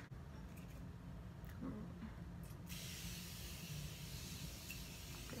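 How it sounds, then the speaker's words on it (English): Hydrating face spray misted during a night-out makeup routine, a sustained hiss that starts partway through and continues steadily to the end over a low background hum. "let me add my hydrating spray."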